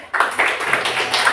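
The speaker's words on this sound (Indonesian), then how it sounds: "Tepuk tangan untuk Hanif." Pupils in a school classroom lesson clap together in a short, dense burst of hand clapping lasting just over a second, fairly close and loud.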